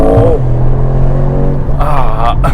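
An SUV engine revs hard on a downshift in heavy traffic, a steady low drone climbing and surging near the end, with a voice speaking over it.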